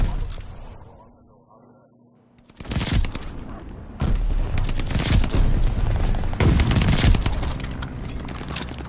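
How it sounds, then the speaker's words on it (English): A friendly bombing run in Call of Duty Vanguard, a quiet lull breaking into heavy rolling explosions and rapid gunfire, loud and sustained with repeated booming surges. "Friendly bombing run on the way."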